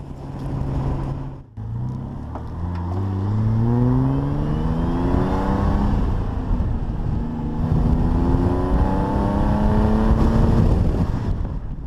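An Austin Healey 3000 engine revs loudly and continuously, its exhaust note rising and falling through several sweeps as it is driven, close up with no talking.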